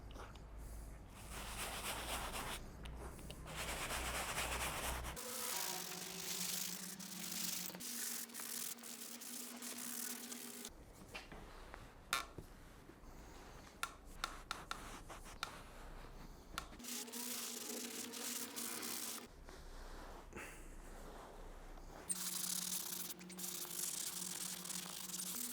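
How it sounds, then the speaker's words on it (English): Dirty leather in a BMW E60 M5 with a V10 is scrubbed using Colourlock Strong Cleaner, giving faint, repeated brushing and rubbing strokes in alternating bursts and pauses, with no talking. "to clean the leather, I'm using Color Lock Strong Cleaner because the leather is disgusting."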